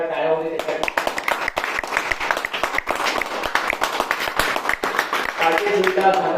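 A crowd applauds for the top student, a steady dense clapping under and between a speaker's voice, fairly loud and close, with talk at the start and end.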